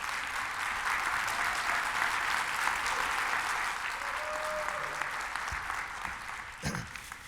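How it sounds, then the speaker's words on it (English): Steady applause from a seated audience at a spring symposium welcome, even crowd clapping throughout at moderate level with a brief thump near the end. "A round of applause for Jim"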